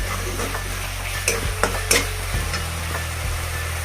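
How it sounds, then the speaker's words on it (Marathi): Schezwan rice is stirred in a pan after a spoonful of soy sauce is added. A few light scraping strokes rise over a steady background hum, close and moderately loud, with no voices. "आता एक चमचा सोया सॉस छान मिक्स करून घेऊया"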